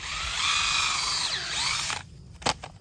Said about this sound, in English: We're drilling a hole